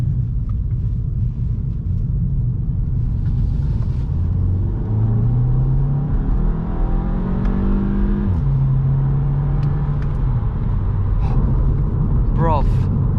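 A Volkswagen Scirocco accelerates in sport mode at night, its engine rumbling low and climbing in pitch through gear changes, heard from inside the car with someone talking over it.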